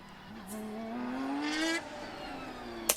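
Porsche 911 RSR race car engine revving smoothly upward in pitch, then easing off as it passes, with a fairly quiet, steady tone and a sharp click at the end; no talk.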